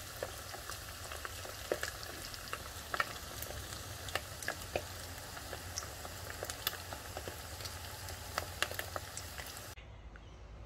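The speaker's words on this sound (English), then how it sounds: "Now let this fry for some time." Tuna fish cutlets frying in a pan give a steady, dense sizzle with scattered crackling pops throughout, moderately loud and close, with no talking.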